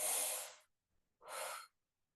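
Two deep, airy breaths, a long inhale and then a shorter one after a brief pause, taken close to the mic during a jaw exercise.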